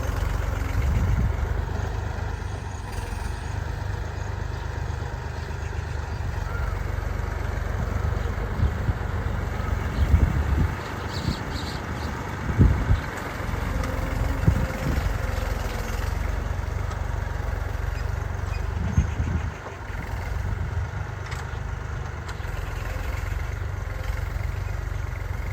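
A tractor engine idles steadily on a farm, a continuous low rumble that stays near and even throughout, with a few faint knocks and rattles rising briefly over it.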